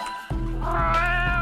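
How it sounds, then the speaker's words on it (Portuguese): Cat meow sound effect from the Flopa fruit power in the Roblox game Meme Sea: one loud, drawn-out, rising and falling meow up close, with game background sound under it. "É um miado de gato, velho."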